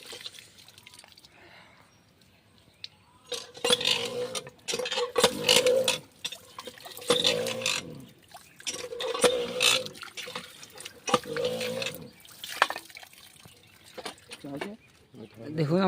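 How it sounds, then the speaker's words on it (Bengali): Chillies being rinsed, running and splashing water that drips and pours in bursts, close by, with a person talking over parts of it. "লাস্ট টাইম একবার জল দিয়ে নিচ্ছি।"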